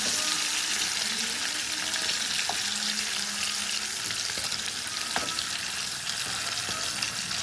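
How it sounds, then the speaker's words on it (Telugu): Small fish fry in a pan with a dense, constant sizzle close by, punctuated by a few faint clinks and stirring noises. "చక్కగా వేగుతుంది, ఫ్రై అవుతుంది"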